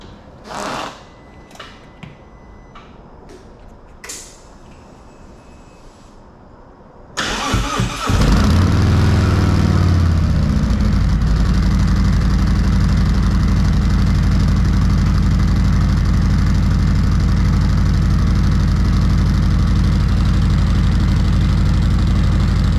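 After a few quiet clicks and knocks, an engine fitted with 4.5-inch Tab Performance B.A.M. exhaust pipes and Zombie baffles cranks and starts, then settles into a loud, steady idle that rumbles on unchanged.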